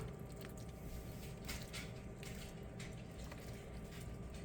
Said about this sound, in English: we are going to pour it on our chicken